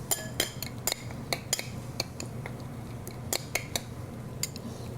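A spoon clinks repeatedly against metal pans and dishes while cooking with oregano, sharp irregular taps over a low steady kitchen hum, close and moderately loud.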